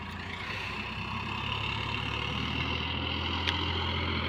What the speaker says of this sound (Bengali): প্রথম চাষ দিচ্ছি সোনালিকা 50 পাওয়ার স্টিয়ারিং